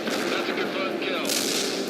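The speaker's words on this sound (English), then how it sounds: "Parker, Ivan is calling in a heavy artillery barrage on your position" Heavy artillery barrage in the strategy game World in Conflict, a dense, continuous rumble of shell bursts and gunfire that stays loud and unbroken from start to finish.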